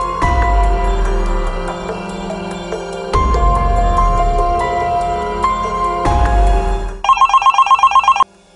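A telephone bell rings loudly in bursts, with repeated ringing segments followed by a short electronic ringtone pattern near the end, set over background music.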